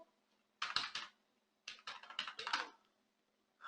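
A command typed on a computer keyboard: two short bursts of quick, close, crisp key clicks separated by a pause, with a faint steady hum underneath.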